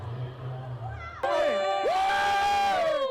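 South Carolina Gamecocks fans cheer and shout loudly at a pep rally in Jacksonville, a dense crowd roar with high whoops and screams swelling after a quieter start.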